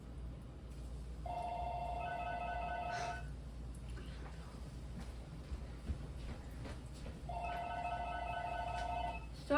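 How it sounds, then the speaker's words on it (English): A house telephone rings in a kitchen, two bursts of electronic trilling bell about six seconds apart over a faint room hum, fairly quiet and with no talk. "my house phone is ringing"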